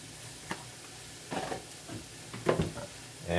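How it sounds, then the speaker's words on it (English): Spanish needle herb sauteing in a pan with salt, garlic powder and black pepper: a faint, quiet sizzle broken by a few sharp scrapes and stirs, with a louder clatter near the end. "I'll just keep sauteing it until it gets to a point where it's good"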